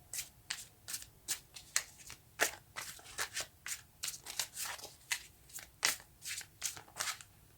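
Tarot cards are shuffled in a steady run of quick, crisp riffling bursts, close and moderately loud, repeating roughly every half second with no talking.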